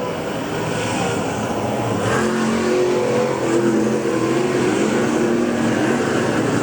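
525 late model race cars roar around Boyd's Speedway in Plant City, Florida, a loud, continuous pack of engines with rising and falling revs as the field passes through the turns.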